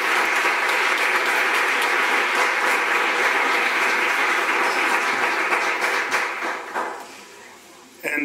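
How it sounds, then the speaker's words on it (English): Loud, dense applause from a large audience welcoming the new Windsor High and Windsor Public Schools teachers at a 2008 school introduction, sustained for about seven seconds before thinning out near the end. "Please give them a thunderous round of applause."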